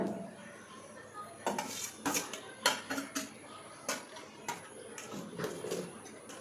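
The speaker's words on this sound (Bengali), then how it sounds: "চিকেনটা দিয়ে ভালোভাবে উল্টে পাল্টে নেব পুরো ভাতের সাথে মিলিয়ে নেব" Chicken being stirred and turned through pulao rice in a pot with nuts and spices, giving a run of irregular scraping clinks and knocks of a utensil against the metal pot, close and fairly clear, with no talking.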